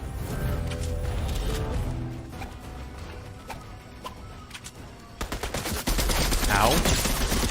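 Video game gunfire in rapid bursts, dense repeated shots that grow louder and busier toward the end over a steady background.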